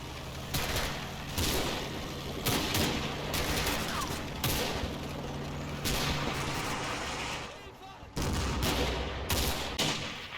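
Platoon rifle and machine-gun fire in the Combat Mission World War II game, with repeated rattling bursts and scattered shots over several seconds and a brief lull near the end before firing resumes.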